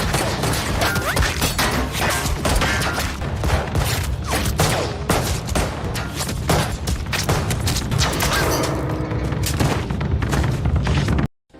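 Dense, continuous gunfire and crashing impacts fill a deadly film shootout between a man and a Russian mafia member, loud and relentless throughout before cutting off abruptly at the end.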